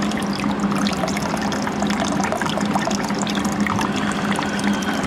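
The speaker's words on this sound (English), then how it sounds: "Now we're just trying to drain all the water out as much as possible." Water drains from a water heater line during an installation, a steady, close rush and trickle with a faint pump-like hum underneath, continuous throughout.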